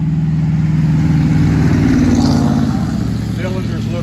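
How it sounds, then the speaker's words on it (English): Heavy trucks rumble past continuously at close range, a loud low engine drone that swells around the middle and eases slightly toward the end, heard while engine heads are being removed. "Trucks going by, forgive the noise."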